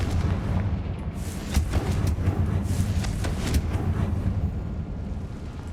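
In the video game Hogwarts Legacy, a Confringo fire spell goes off as a rumbling burst of booms and crackling blasts that sustains for several seconds at loud volume, with no voices.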